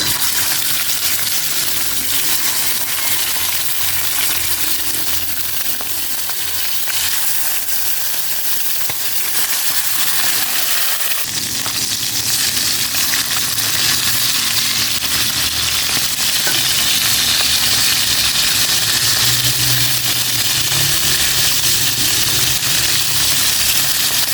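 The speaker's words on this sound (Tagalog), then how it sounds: "Iprito ko na itong mga chicken." Steady sizzling and bubbling of food frying in hot oil, continuous and close, growing slightly louder partway through with no talking.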